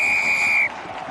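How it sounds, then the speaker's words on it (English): A rugby referee's whistle blast rings out loud and steady during a schools semi-final match, then cuts off sharply, leaving a continuous crowd murmur behind it. "Strong blow the whistle there from referee Nigel Carroll"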